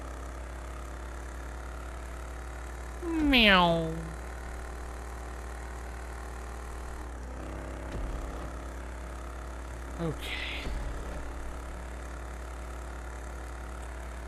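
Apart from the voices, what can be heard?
Rat Truck engine idling in the video game GTA 5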